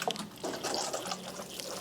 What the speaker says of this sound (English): I give them a quick water.